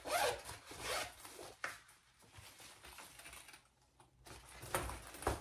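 A zipper on a pocket of a travel organizer is pulled open and closed in several quick rasping strokes, close and clear, with brief pauses between.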